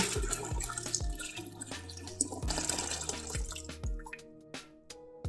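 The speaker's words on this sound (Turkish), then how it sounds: "Daha sonra da bol miktarda soğuk su döküyoruz." Plenty of cold water is poured into a pot of dried beans, giving a near, steady splashing trickle punctuated by a regular series of drips and plops.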